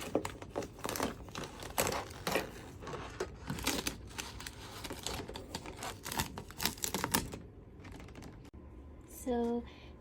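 A Cricut machine cuts a printed sticker sheet with rapid, uneven clicking and scraping that runs for about seven seconds, then falls quiet before a short mechanical whir.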